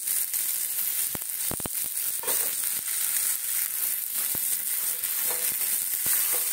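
Ginger goes into a hot pan of frying food and sets off a steady, close sizzle. Sharp clicks and scrapes of stirring cut through it at irregular moments.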